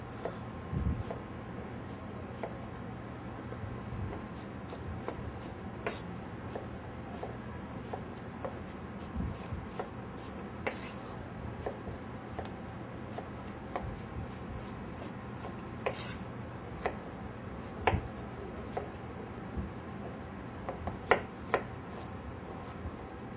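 Knife chopping quince into rough chunks on a cutting board for jam, a steady run of sharp, close taps spread over the whole stretch with a few louder knocks.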